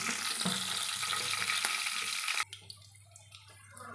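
Mustard seeds spluttering in hot oil in a pan: a dense, loud hiss and crackle that cuts off abruptly, leaving quieter scattered pops and a low hum.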